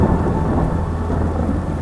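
Steady heavy rain mixed with a deep, rolling thunder rumble, loud and continuous with no pauses and no voices, set as a dark, ominous backdrop for a horror story.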